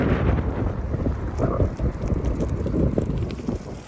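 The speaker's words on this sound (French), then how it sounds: "aujourd'hui j'ai le vent de face" Strong headwind buffets the microphone of a cyclist riding the Via Rhôna in November, a loud continuous roaring rumble with gusty surges and no speech.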